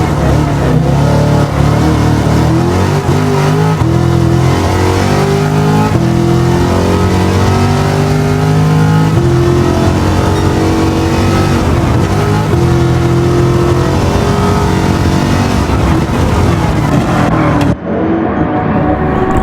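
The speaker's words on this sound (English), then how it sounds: "Just listen to that C8 Corvette real quick." A C8 Corvette race car in Gran Turismo 7 at Daytona International Speedway, engine roaring loud and close as it climbs through the gears in repeated rising sweeps, with a brief cut near the end.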